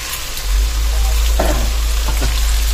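Large chunks of potato fry in hot oil for corned beef, giving a loud, close crackling sizzle with a constant low rumble and a few sharper pops and spatters, and no talking.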